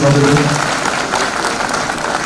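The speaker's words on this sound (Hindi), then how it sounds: "जोरदार तालियां" Loud applause from a ceremonial crowd at a flag-off event in Srinagar, a thick continuous patter of clapping with a brief tonal voice or sound at the very start, then steady clapping throughout.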